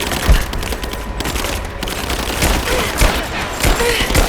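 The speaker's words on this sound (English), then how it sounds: "I'm under fire! Down! Taking fire!" Dense enemy gunfire rattles through a firefight in Rise of the Tomb Raider, a steady fusillade of automatic bursts and sharp shots, loud and close throughout.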